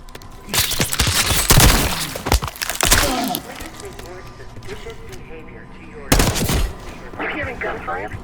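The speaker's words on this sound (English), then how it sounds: "You hearing gunfire?" Bursts of rapid machine gun fire in Call of Duty: Black Ops 6 crack out loud and close, with a heavy fusillade early on, a lull, then another sharp volley near the end; voices talk underneath.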